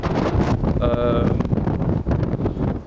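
Strong wind gusts roar across an outdoor public viewing gallery in Canberra on a cold early-winter day, a dense, steady rush close to the microphone with a brief tonal whistle partway through.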